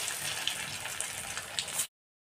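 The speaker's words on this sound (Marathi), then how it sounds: "आणि आता बाकी सर्व वड्या देखील आपण तळून घेऊयात." Coriander vadi fritters made with a mixed-flour batter fry in oil with a steady, hissing sizzle and scattered small pops. The sound runs for under two seconds before cutting off abruptly.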